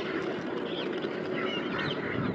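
A flock of pochard ducks flushed by a hunting dog, steady dense honking and quacking calls with wingbeat rustle filling the whole moment, fairly loud and continuous with no talk.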